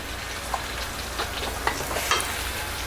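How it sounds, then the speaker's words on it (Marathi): Vatali dal, a coarse-ground lentil mixture with salt, sugar and coriander, sautéed in a pan, giving a steady soft sizzle with a few light scraping stir strokes throughout. "ते हे छानपैकी आपल्याला परतत राहायचं आहे"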